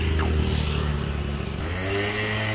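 A car engine idles and revs steadily up close as the vehicle pulls in to collect a free couch, a continuous low rumble with no speech.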